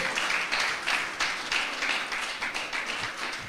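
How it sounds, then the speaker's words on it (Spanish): A church congregation applauds together, a dense wash of clapping that swells and pulses in waves for several seconds at moderate volume, with no talking. "Dele un fuerte aplauso al Señor."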